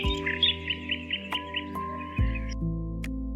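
An oriental magpie-robin sings a quick run of clear, repeated whistled notes, close and distinct, against a low steady background drone.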